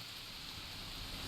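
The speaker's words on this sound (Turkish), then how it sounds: "Bu arkadaki hala bu yağmur sesi" Steady, even hiss of heavy rain in the video game Dead Island Riptide Definitive Edition, unchanging throughout, with no voices or other sounds on top.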